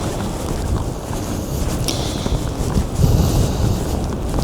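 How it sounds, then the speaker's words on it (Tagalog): Cold wind buffets the microphone outdoors in winter Sapporo, a steady rushing roar that swells and gusts louder toward the end, with no one talking. "Na may kasamang malamig na hangin."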